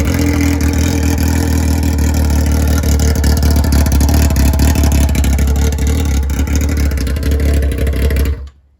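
Yamaha R6 sport motorcycle idling loud and close with its exhaust removed, a steady rough rumble that holds without revving before cutting off abruptly at the end.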